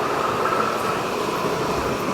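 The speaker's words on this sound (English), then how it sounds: "I take that tram almost every day" Steady rumbling ride aboard a tram in Hamburg, with a continuous mid-level rolling drone and hum and no voices throughout.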